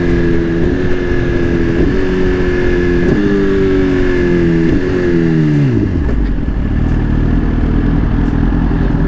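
A Suzuki GSXR 1000-R sportbike engine revs loud and close, climbing through the gears in stepped pulls before dropping off as the bike rolls out, no talk.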